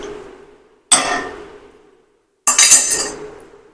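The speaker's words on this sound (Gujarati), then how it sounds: "તો હવે આપણે તેમાં કોથમરી નાખી દઈશું હવે આપણે તેને હલાવી લેશું" A spoon stirs potato curry with fresh coriander in a pan, making two short bursts of metallic clinking and scraping against the pan, each trailing off, with a quiet pause between them.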